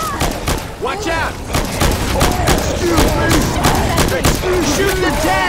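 In Left 4 Dead 2, survivors pour rapid, continuous gunfire into the Tank, a dense rattle of shots running throughout while voices shout over the shooting.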